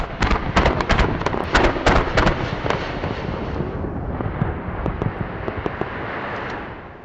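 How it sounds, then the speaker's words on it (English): Fireworks at a Christmas gathering: a rapid string of sharp cracks and pops over a dense rumbling wash, heaviest in the first seconds, then thinning into scattered bangs and a fading roar. "After the fireworks"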